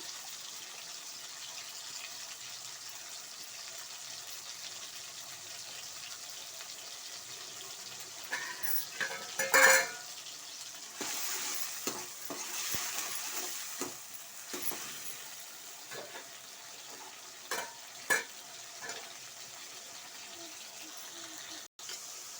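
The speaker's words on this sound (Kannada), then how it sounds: "ಎಣ್ಣೆ ಕಾದಿದೆ ಟೊಮಾಟೋನ ಸೇರಿಸ್ಕೊಳ್ಳಿ ಒಂದು ಮೂರು ಟೊಮಾಟೊ ಕಟ್ ಮಾಡ್ಕೊಂಡಿದ್ವಿ ಇದನ್ನು ಚೆನ್ನಾಗಿ ಬೇಯಲಿ" Chopped tomatoes fry in hot oil for a mutton sambar, a soft steady sizzle with intermittent louder scraping and clinks of stirring, heard alone without talk.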